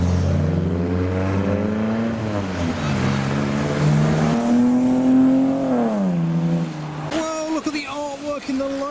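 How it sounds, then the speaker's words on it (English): A green Nissan S14 leaves a JDM meet in pouring rain, its engine revving through rising and falling pitches, loud and close, before abruptly giving way to other engine noise, with voices faintly beneath. "we have an early departure from the green S14"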